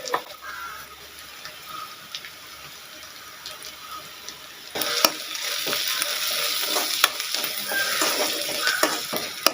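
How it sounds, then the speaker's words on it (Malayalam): Onions sauté in a hot pan with salt and turmeric, a steady sizzle and crackle with occasional stirring scrapes that grow louder and busier partway through; no one speaks. "ഉള്ളിയൊക്കെ നന്നായിട്ട് വാടി വന്നിട്ടുണ്ട്"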